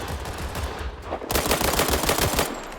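Rapid automatic MPX gunfire in the World War 3 video game, loud dense bursts of shots that intensify midway and run nearly continuously to the end.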